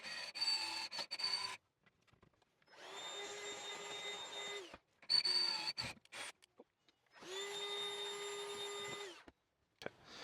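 A power drill bores a hole in a countertop inside a 2023 Ford Transit 148 camper van build, two sustained whining runs with harmonic tones separated by shorter bursts, clunks and pauses.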